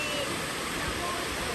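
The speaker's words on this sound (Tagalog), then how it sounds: "Wow, first time here guys at Carrington Waterfalls." Carrington Falls in Robertson, New South Wales, Australia pours as a loud, continuous broadband roar of falling water, close and unbroken, while someone speaks over it.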